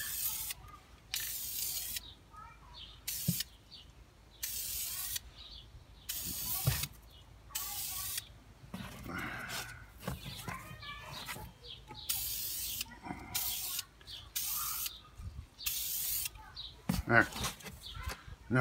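A spray paint can sprays primer onto a small object in repeated short hissing bursts of a second or two each, close and clear, with pauses of handling noise between them.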